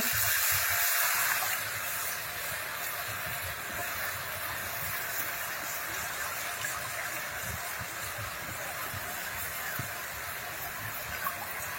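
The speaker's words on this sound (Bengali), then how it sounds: "আলু কিছুক্ষণ ভাজা হয়ে গেছে, আলুটা একটু আপনারা আস্তে জালে ভেজে নেবেন। এবার আমি টমেটো দিয়ে দেব।" Tomato hits potatoes frying in a pan, setting off a loud, steady sizzling hiss that continues evenly without letting up.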